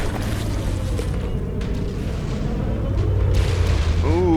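Heavy battleship guns boom in the From The Depths naval combat game, a dense rumbling barrage of low blasts continuing throughout amid water and engine noise, with a rising mechanical whine near the end.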